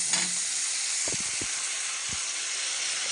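Tomato dropped into a pan of frying onion and garlic for Tamil vatha kuzhambu, giving a loud, steady sizzle and hiss throughout with a few soft low knocks of stirring.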